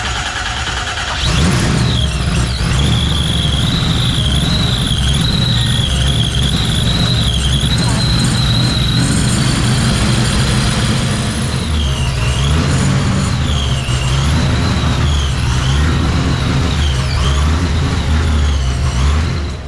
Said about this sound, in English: Crank her over, bud.